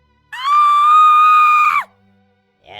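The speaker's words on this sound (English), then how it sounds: "She screamed." A woman lets out one loud, sustained high-pitched scream lasting over a second, then cuts off sharply, with a faint voice starting just after.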